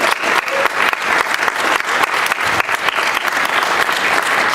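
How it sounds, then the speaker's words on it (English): Audience at PAX West breaks into sustained applause, a dense, loud wash of many hands clapping continuously for several seconds without pause. "while the enthusiasm is great, clap quick and stop because we don't have a ton of time"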